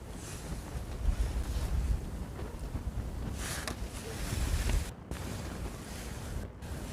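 Wind blows beside the Imjin River during a fishing outing in March. It makes a steady, fairly faint low rumble of gusts buffeting the microphone, swelling and easing with no talking.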